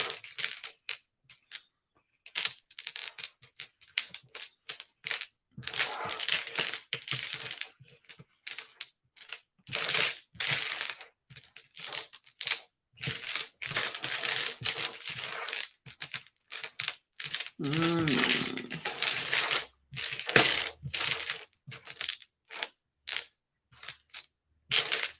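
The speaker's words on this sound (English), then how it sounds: "I'm still shuffling" Tarot cards being shuffled by hand, a long run of rapid papery riffles and soft flicks in irregular bursts, close and moderately loud, with no talking.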